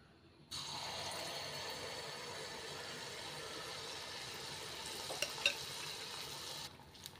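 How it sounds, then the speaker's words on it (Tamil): Rava paniyaram frying in hot oil, a steady continuous bubbling sizzle that starts abruptly and runs evenly for several seconds before cutting off, with a couple of small clicks near the end. "இப்படி நல்லா பொரிஞ்ச உடனே எடுத்துக்கோங்க"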